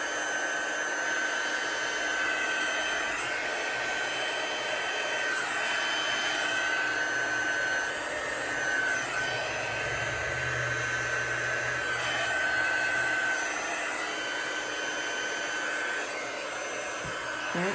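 A heat tool blows hot air steadily for embossing, a loud continuous whirring hiss with a high whine that runs unbroken and close throughout.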